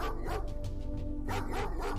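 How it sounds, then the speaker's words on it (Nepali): Several dogs at a house bark in short repeated bursts through the night, with yips and a faint whimper, moderately close over a steady background hum. "त्यो घरको कुकुरहरू भुकिरहेको आवाज आइरहन्थ्यो।"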